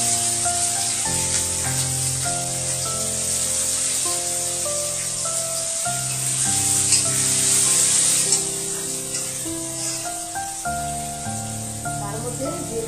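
Onions fry in hot oil with dried red chillies for a bottle gourd skin dish, a constant close sizzle and crackle running throughout beneath tuneful background music.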